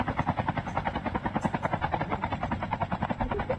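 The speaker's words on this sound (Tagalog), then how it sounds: "Ikaw ba nagbukas ng helicopter?" A helicopter in the Call of Duty Mobile battle royale game whirs close by, its rotor chopping in a fast, steady, even pulse that fills the whole clip with no voices over it.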